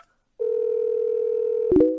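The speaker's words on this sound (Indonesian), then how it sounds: "Aku akan telepon Wakil Presdir Chen" Telephone dial tone: a steady, clear electronic tone begins after a short silence and holds alone, then broken by a quick burst of keypad beeps near the end.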